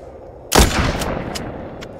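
A single loud gunshot from the zombie shooter game The Walking Zombie 2 cracks sharply, followed by a short echoing tail and a few faint clicks.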